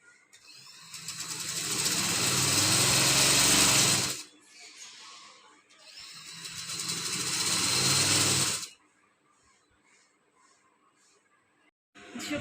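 A sewing machine stitches a suit in two long, loud bursts of rapid whirring, each followed by a quieter pause with small handling noises.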